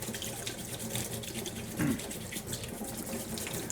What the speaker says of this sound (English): I'm gonna have to do some dishes